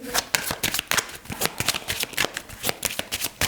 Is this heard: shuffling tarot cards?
yes